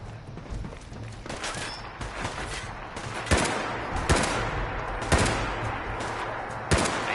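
Gunfire in the game CoA: Terminal, a run of sharp single shots with heavy recoil spaced about a second apart over a continuous background rumble, loud and close.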